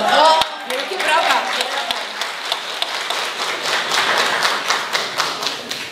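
Audience applause at a folk ensemble's fifth anniversary jubilee, someone speaking briefly before a steady, moderately loud round of clapping with rhythmic, slightly uneven beats that continues to the end.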